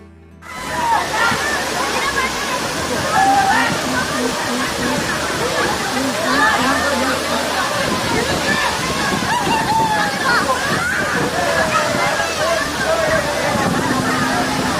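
Tippi waterfall in Arunachal Pradesh roars with constant rushing water, loud and close, while people talk over the steady torrent.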